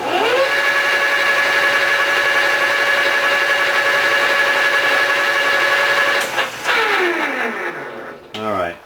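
A metal gear being skimmed to finished diameter on a machine, a loud steady whining hum with a clear tone that runs for about six seconds then winds down as a voice speaks.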